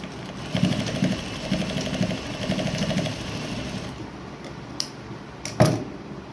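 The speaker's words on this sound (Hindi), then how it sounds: "बीच में रख के मैं यहाँ डोरी स्टिच कर दूँगी" A sewing machine runs steadily and close, stitching a cord onto a small doll dress for a Laddu Gopal figure, its rapid whirring lasting a few seconds before it stops and a couple of soft clicks follow.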